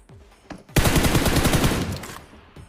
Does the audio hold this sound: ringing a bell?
no